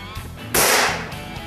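A single sharp crack from a Benjamin 392 air rifle firing, loud and close, with a brief fading tail against a quiet background.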